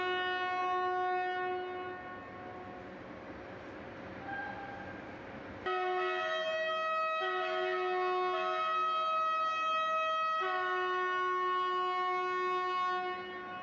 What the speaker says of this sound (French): toute sirène hurlante, le turbotrain se présente sous la vaste marquise